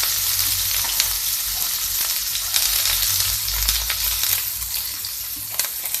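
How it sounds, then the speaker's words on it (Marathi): Finely chopped onion sizzles steadily in a hot pan for a cluster bean and potato dish, with a dense, continuous frying hiss and occasional stirring scrapes close by. No voices are heard. "हा कांदा आपल्याला गुलाबी होईपर्यंत परतून घ्यायचा आहे।"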